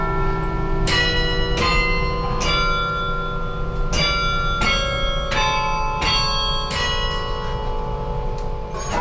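Carillon bells ring out a slow melody, about ten clear struck notes spaced roughly a second apart, each ringing on with a long shimmering decay that overlaps the next, loud and resonant with no talking.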